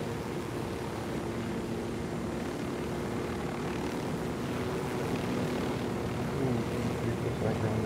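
In the video game Ghost Recon Wildlands, a helicopter gives off a continuous rotor and engine drone that holds steady and fairly loud, swelling slightly toward the end.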